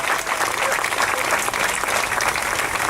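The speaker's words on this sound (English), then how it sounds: "Give them a round of applause, because we're proud of them." A crowd at a 2018 statue unveiling for Louis Tikas, with visiting guests from Greece, breaks into sustained, dense applause that stays loud and steady throughout.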